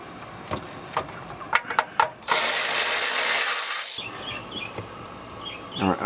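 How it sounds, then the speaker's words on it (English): Power tool spinning out 8mm bolts from a heat shield on a Mercedes-Benz, with a loud, close, continuous whir lasting under two seconds between scattered clicks and knocks of tool handling, with no talking. "So now I need to remove just a few of these 8mm bolts all along this heat shield."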